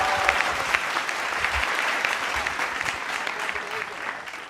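Audience applause for a TV anchor at a Hindi political parody show, a dense steady clatter of many hands clapping throughout, close and fairly loud, with no talking.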